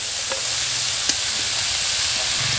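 Boiled potatoes and banana flower pieces being stirred and fried in spices for a chop filling, a close, steady sizzle with a few soft scrapes of the spoon.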